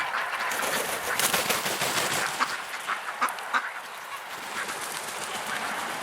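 Ducks quack and honk repeatedly in a wintry outdoor setting during heavy rain, the calls coming in short bursts over a steady wash of rainfall.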